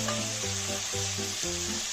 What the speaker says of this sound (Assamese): এইখিনি অলপ ভাজি লওঁ